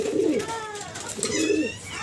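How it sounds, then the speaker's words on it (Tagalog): Pigeons in a breeding loft coo in two low, rolling bursts close by, with faint chirps and a soft murmur of background noise between them. "Ang mga kalapate natin oh."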